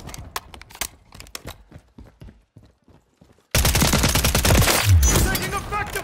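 Gunfire in Call of Duty Modern Warfare 3, with a run of sharp separate shots at first, then a loud dense burst of fire and explosions filling the rest.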